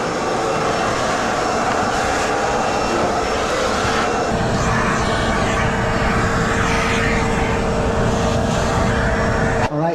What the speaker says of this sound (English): HEPA vacuuming is very important with mold remediation. You want to get all the spores vacuumed up